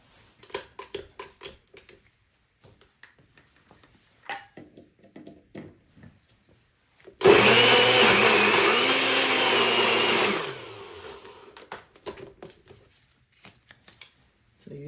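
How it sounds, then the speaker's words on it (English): A kitchen blender whirs loudly for about three seconds, grinding fresh thyme and vegetables for Haitian epis seasoning, with talk before and after the motor runs. "I started to blend."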